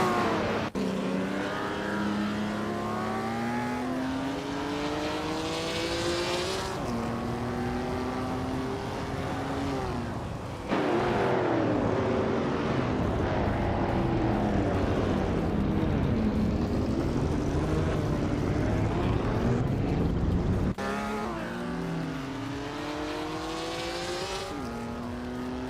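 Several race cars in a racing video game, among them a 1967 Plymouth GTX muscle car and a 1965 Jaguar E-Type Series 1, roar steadily with rising and falling engine pitch as gears shift, loud and continuous throughout.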